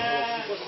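A ewe gives a single short, close bleat during a day of sheep shearing in the Céris valley in the Baudéan valley.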